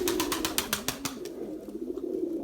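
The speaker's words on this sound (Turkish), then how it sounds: "Bakın burada bu kadar çok kuş var." Pigeons coo at a loft during a flight session, low soft cooing throughout, with a quick run of sharp flapping or clatter at the start that fades.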